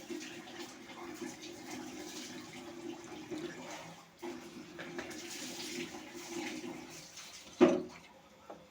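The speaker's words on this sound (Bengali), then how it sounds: "এখন একটু জল দিয়ে দেব।" Water is poured into a thick, oil-glossed spiced gravy for a rohu fish curry in a pan: a soft, continuous low splash with a brief pause midway and a sharp knock near the end.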